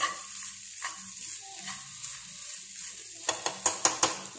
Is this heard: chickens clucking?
no